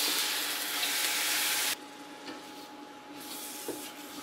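Stir-frying rice and green onions with sauce in an induction wok: a loud broad sizzle that cuts off abruptly, then quieter frying with a few light utensil scrapes, close up and without voices.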